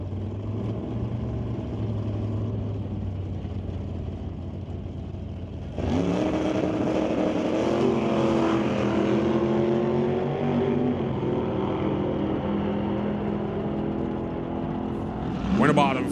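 Hot rod drag car engine roaring down the track at a drag race, a loud steady drone that surges louder midway and stays strong to the end, with a commentator talking over it.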